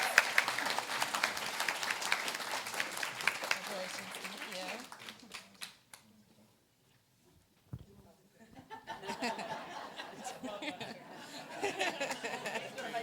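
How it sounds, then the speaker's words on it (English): Applause for employee recognition at a September community meeting, a dense wash of clapping with light chatter and chuckles for about five seconds, fading into near silence, then a murmuring crowd with scattered claps. "Let's give a big round of applause."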